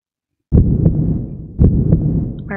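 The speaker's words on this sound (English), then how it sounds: "Why are we having heartbeats?" Heartbeat sound effect in the video game AI: The Somnium Files: loud, close, low thumping beats in a slow lub-dub rhythm, two heavy pulses about a second apart, with no talking.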